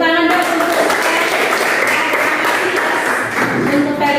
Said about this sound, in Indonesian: Woi, tepuk tangan dong